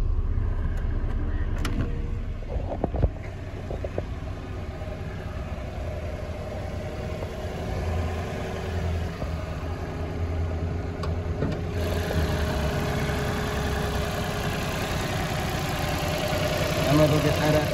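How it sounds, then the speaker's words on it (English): A 2017 Mitsubishi Mirage ES with a CVT idles steadily in a low, even hum, with a brief clunk early on and a voice speaking over the engine. "This little car's running pretty good."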